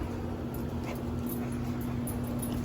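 Dog whimpering and whining at home beside a Can-Am Outlander 570, faint thin cries over a steady background hum, no talking.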